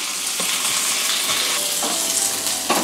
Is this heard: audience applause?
no